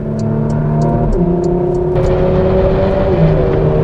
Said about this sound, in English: You'll automatically hear the sport exhaust turned on, which sounds like a Porsche. It has these little popples.